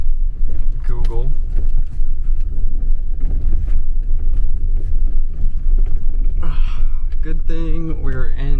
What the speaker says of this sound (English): Driving over rough terrain like this, because this is my vehicle.